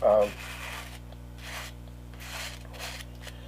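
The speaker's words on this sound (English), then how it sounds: "put this on with a spatula, like I'm doing right now on this piece of foam" A spatula spreads coating across a piece of foam in soft, repeated scraping strokes, faint and close, with no talk.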